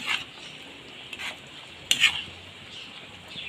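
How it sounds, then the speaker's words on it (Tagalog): Chicken in white sauce stirred in a pan: a few short scraping and clinking strokes of a utensil against the pan, close but fairly soft, over a faint background hiss. "Hahaluin natin."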